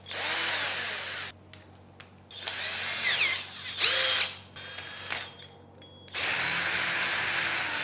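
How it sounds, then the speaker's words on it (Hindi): A power drill whines in several bursts, loud and close, with short pauses and changes in pitch between runs as it bores through metal, enlarging a hole. "इसको ड्रिल करके इसका होल को और थोड़ा बड़ा करेंगे"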